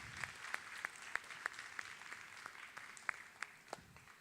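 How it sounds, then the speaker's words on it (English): Sparse, faint applause from a small audience at a glassblowing demonstration: scattered individual claps spaced apart over a quiet background hiss. "Let's give her a round of applause for that move."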